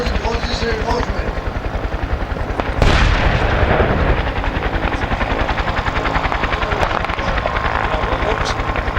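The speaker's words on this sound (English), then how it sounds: "artillery fire is launched in order to isolate the area" Military artillery fire during the Greek army exercise Talos 15 at Nea Santa, Kilkis: one heavy boom bursts out partway through, set against a continuous loud, rhythmic thumping like helicopter rotors.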